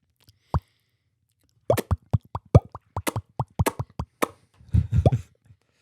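A person imitating popping sounds with the mouth, a series of sharp, separate plops in an irregular rhythm, close and dry, thickening into a quick burst of pops near the end, with no talking.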